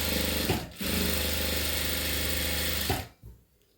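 A sewing machine stitching fabric runs in a steady mechanical whir for about two seconds, pauses briefly, then resumes before stopping, close and clear without voices.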